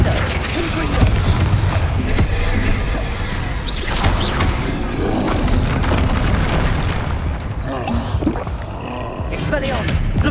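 Confringo blasting-spell explosions in Hogwarts Legacy, loud booming blasts that go off repeatedly within a dense, roaring combat mix with a voice speaking over it.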